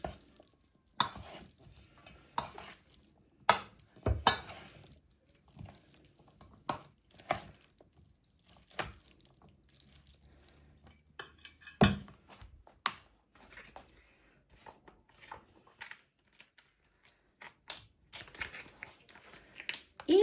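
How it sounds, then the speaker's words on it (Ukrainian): A salad of chicken hearts, boiled eggs and onion is stirred in a bowl, giving soft, scattered clinks and squelchy scrapes at an irregular pace, faint and close, with no talk. "Так, тут у нас вже яйця, сердечки та цибулька. Гарно вимішуємо."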